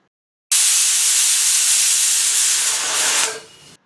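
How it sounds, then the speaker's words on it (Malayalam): Pressure cooker cooking broken wheat lets out one loud, close, sustained steam whistle. The hiss starts abruptly, holds for about three seconds and then fades, with no talking. "ഇപ്പോൾ ഒരു 4 വിസിലെല്ലാം വന്നു കഴിഞ്ഞ് ഇനി നമുക്ക് സ്റ്റവ് ഓഫ് ചെയ്ത് സ്റ്റീം പോകാനായിട്ട് മാറ്റി വെക്കാം."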